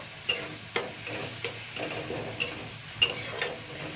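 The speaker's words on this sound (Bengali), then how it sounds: "জাস্ট আমি দুই তিন মিনিট আবারও ভেজে নেব" Shrimp frying in a pan with gondhoraj lemon leaves: a quiet, soft sizzle punctuated by several sharp metallic taps and scrapes of a spatula stirring against the pan, no talking.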